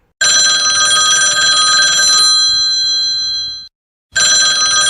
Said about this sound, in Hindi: फिर थोड़ी टाइम में पापा का फ़ोन बजता है।